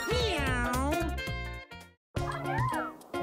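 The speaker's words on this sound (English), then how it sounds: "Meow." Cartoon cat meows from the Super Mario 3D World video game: a long, loud, bending meow followed after a short pause by a second, rising meow, set against game music.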